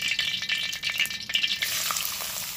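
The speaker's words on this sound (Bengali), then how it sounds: "প্রত্যেকটা সবজি এরকম ভাবে ভেজে নিতে হবে" Carrot and cauliflower fry in oil in a pan for a winter-vegetable paneer rice, with a loud, close, continuous sizzle and crackle broken by scraping stirs, and no voices.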